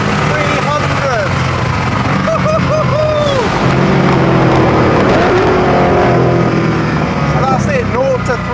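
A Koenigsegg Agera accelerates hard from a standstill to 300 km/h, its engine note rising and falling steadily through repeated gear changes, loud and constant throughout, heard from inside the car.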